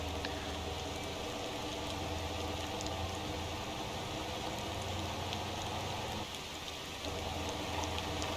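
Steady rain falls in the Motor Town driving game, a dense, even hiss of drops on surfaces that runs throughout with a low engine rumble beneath, dipping briefly near the end.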